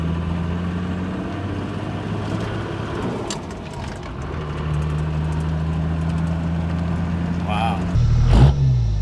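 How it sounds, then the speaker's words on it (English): Toyota Land Cruiser engine fitted with a 3-inch Outback exhaust, a steady low idle rumble heard close from inside the vehicle, swelling briefly louder near the end, with faint talk in the background. "And now the same camera angles with the Outback exhaust."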